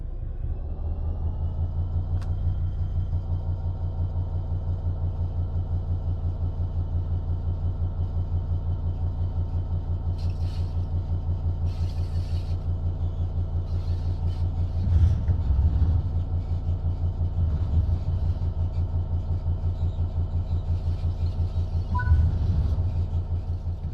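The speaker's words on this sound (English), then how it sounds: "Apply some throttle to get the train moving." A train in Train Sim World 3 pulls away under throttle, a steady low engine rumble and hum droning continuously with faint clunks and creaks now and then.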